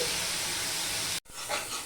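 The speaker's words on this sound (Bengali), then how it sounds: "গ্যাসের ফ্লেমটা কিন্তু আমি হাইতে দিয়েই ভাজছি" Broccoli frying on a high gas flame gives a steady, close hiss of sizzling for over a second, then a sudden brief cut to silence before the sizzle returns.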